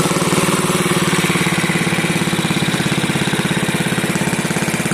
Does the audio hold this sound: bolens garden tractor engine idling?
yes